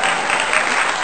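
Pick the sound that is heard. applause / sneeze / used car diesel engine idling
applause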